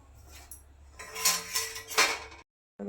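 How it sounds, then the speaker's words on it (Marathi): A metal lid goes onto a pot of gulab jamun in syrup: close, clattering metallic clinks and scrapes for about a second, then abrupt silence before a faint noise returns, with no talking. "आता याला थोडा वेळ झाकून ठेवू"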